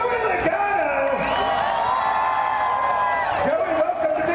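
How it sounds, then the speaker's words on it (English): A crowd cheers and applauds for Joey Logano winning the 2022 South Point 400 NASCAR race in Victory Lane, a steady roar under a loud announcer's voice. "How about a big round of applause?"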